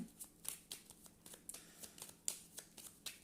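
Tarot cards are shuffled by hand for a Gemini reading, making a quick run of soft, crisp slaps and riffles in a steady rhythm. The sound is close and quiet.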